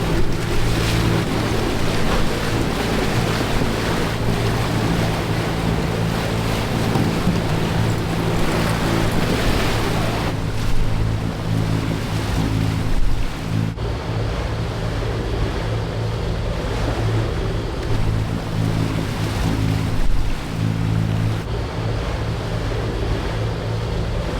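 Ocean waves and wind off a small desert island, a loud, constant wash of choppy surf and breeze with no pauses.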